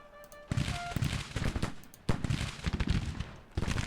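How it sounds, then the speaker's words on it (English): Crackling, rolling musket volleys from a Civil War battle line in Grand Tactician: The Civil War sound as dense, loud staggered bursts of fire, with a brief lull before another ripple of shots. "Let's get our main battle line firing all the way along the line here."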